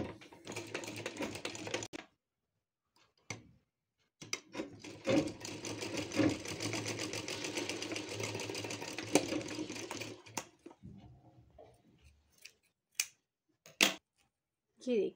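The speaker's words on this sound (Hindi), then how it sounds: "इस तरह से ट्रेंगुलर शेप में इसे मोड़ करके हम यहाँ पर स्टिचिंग करेंगे।" A sewing machine stitches fabric tassels onto the back neck of a blouse, running in one long continuous burst with a few shorter bursts and clicks before and after, close up and alone with no talking.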